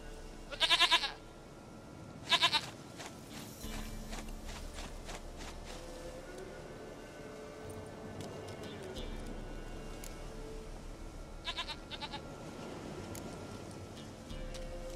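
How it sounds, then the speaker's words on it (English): A goat bleats in The Witcher 3: Wild Hunt, giving two loud, close calls near the start and a fainter one later over a steady low outdoor game ambience. "Goat of mine, dearest, sweetest goat."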